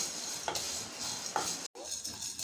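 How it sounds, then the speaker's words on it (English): Coriander seeds and chana dal fry in a pan, giving a soft crackle with a few light scrapes of a spatula and a brief break in the sound. "Now we have to take coriander seeds and add to the Channa Dal. And again fry it for another minute."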